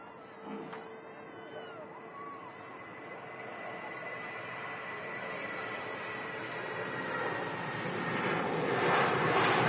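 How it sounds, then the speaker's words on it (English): A British Airways shuttle aircraft at Manchester Airport sends a distant jet roar that slowly swells louder over several seconds. Faint background sounds come through, including what seems to be a cat's meow. "We got the British Airways shuttle service heading back to London Heathrow"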